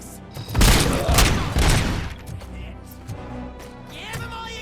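Gunfire in Robocop: Rogue City, a heavy burst of shots booming loud and close for a couple of seconds, then fading into scattered quieter shots and impacts.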